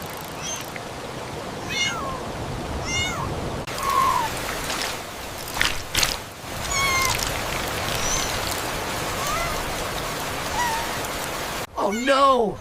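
A cat meows several times over a steady patter of rain, the rising, wavering calls fairly close, with a louder meow at the very end.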